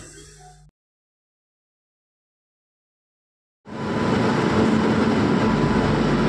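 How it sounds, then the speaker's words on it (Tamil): Mayiladuthurai to Mysuru passenger train: a brief faint noise, then silence, then a loud, sustained rumble of the rolling train with a faint steady tone that continues to the end. "இந்த ட்ரெயினில் தான் நம்ம மைசூர் வரைக்கும் போக போகிறோம்"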